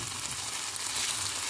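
Steady hiss and crackle of meat, liver and offal frying in a pan with chermoula sauce, close up and continuous with no voices.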